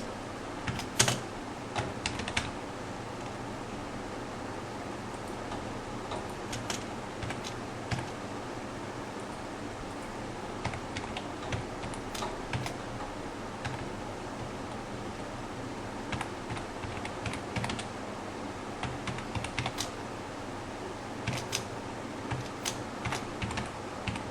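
Steady typing of HTML code on a computer keyboard, with dense, irregular key clicks continuing throughout at moderate, close level and no voices.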